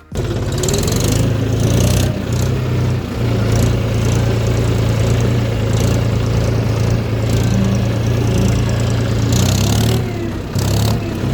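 A tractor engine runs loud and close in a farm field, a steady droning rumble with slight shifts in pitch as it labors along.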